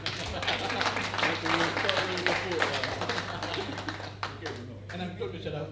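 An audience at a domestic workers seminar claps together in a sustained burst of applause that tapers off toward the end, with a steady low hum underneath.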